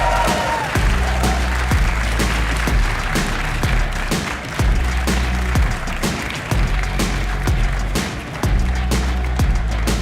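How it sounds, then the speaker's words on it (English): A packed esports arena crowd applauds and cheers as Astralis walks out for an ESL Pro League Season 19 semifinal, a loud, steady roar of hands and voices layered over thumping arena music. "I want you to give a big round of applause for our first team coming in"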